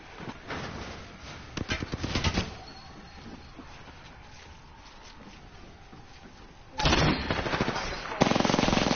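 Rapid bursts of video game gunfire crackle in short volleys, with a louder sustained stretch of automatic fire near the end, set against a low in-game background hum.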